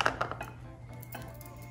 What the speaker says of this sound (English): Mix it nice with your whisk.